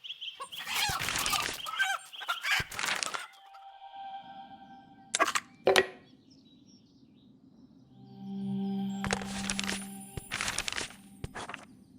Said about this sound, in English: you could hypnotize a chicken